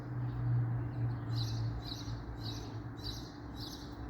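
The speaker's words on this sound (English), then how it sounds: "See, that's those snowbirds making that." Snowbirds call in a regular run of short, bright chirps about twice a second, moderately distant over a low steady rumble.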